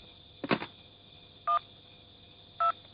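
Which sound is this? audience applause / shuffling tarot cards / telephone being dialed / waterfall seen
telephone being dialed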